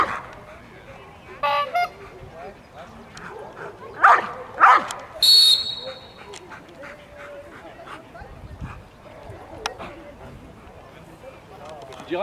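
Dogs bark in short loud bursts at a dog event, a few sharp barks and yips scattered among quieter crowd noise and speech nearby.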